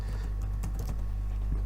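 Quick, light taps on a computer keyboard, a short burst of a few keystrokes heard close and quiet over a steady low hum.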